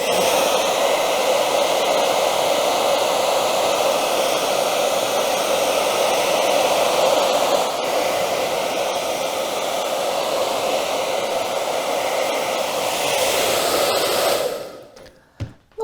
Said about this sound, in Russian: при помощи фена мы с вами высушили наш пигмент